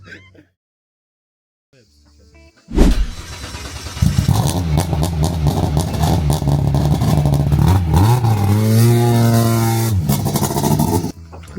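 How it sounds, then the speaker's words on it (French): An old Porsche engine with a broken throttle cable cranks and fires, then is revved by hand in rising and falling surges, loud and close, with rattling clatter over the running engine. "un gars tombe en panne avec sa vieille Porsche, câble d'accélérateur cassé, on lui a fait sortir de là, il va accélérer à la main"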